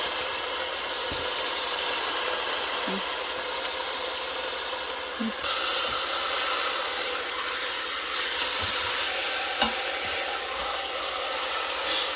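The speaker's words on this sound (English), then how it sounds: "It's starting to sear good." Beef ribs searing in an Instant Pot produce a loud, dense, continuous hiss and sizzle that holds steady and grows slightly brighter partway through, with no talking.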